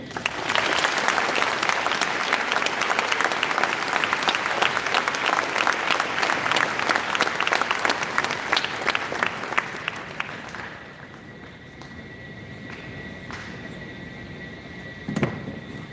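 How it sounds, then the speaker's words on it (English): Sustained applause from a crowd at a school Veterans Day assembly, loud and steady for about ten seconds before dying down into quieter room noise with a few scattered claps. "Let's give them one more round of applause."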